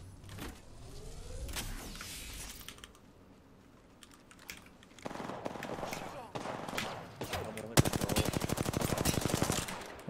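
Enemy gunfire crackles in the battle royale game Apex Legends: scattered shots early, then a rapid automatic burst near the end, amid clicks and game effects.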